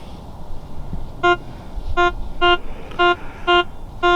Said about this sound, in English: Ringing up at 84 and telling me it's a quarter.